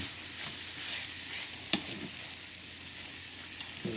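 Prawns sizzle in black bean sauce in a pan, a steady close hiss of frying with light scraping as they are stirred and one sharp clink of a utensil.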